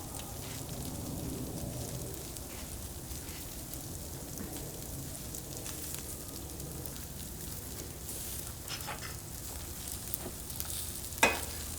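NY strip steaks searing in butter on a Pit Boss grill give off a steady, dense sizzle that holds evenly throughout, with a few brief crackles and one sharper pop near the end.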